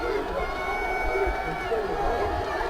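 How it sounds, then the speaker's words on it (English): Home fans at a high school football game, Dallastown at South Western, cheer and shout in a steady wash of crowd noise, with a second crowd making noise across the far side of the field. "the home fans getting fired up a little bit here, and Dallastown's crowd on the far side making a little noise for their defense"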